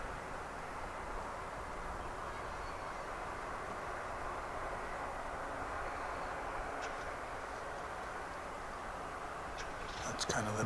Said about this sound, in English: That's kind of the backdrop of the London flight headed to the International Terminal D.